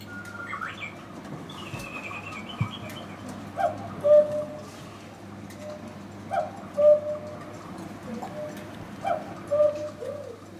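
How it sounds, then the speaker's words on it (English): A real cuckoo calling in the Black Forest, Germany, heard as repeated two-note coos in a slow rhythm, about four phrases, moderately near over quiet background hum. "The Cuckoo is a very common bird in the Black Forest, and this one is a recording of a real cuckoo."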